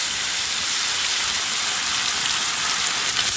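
Food fries hard in a very hot wok over a wood or open fire, a steady dense sizzle with crackling spits running throughout, close and loud with no talk.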